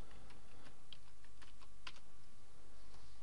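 Quick, irregular keystrokes on a computer keyboard as a file name is typed, close and clear over a steady low room hum, with no talking.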